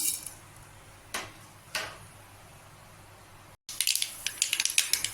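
Mustard seeds spluttering in hot sesame oil in a kadai: a few sharp isolated pops, then after a brief gap a dense run of crackling bursts, close and fairly quiet.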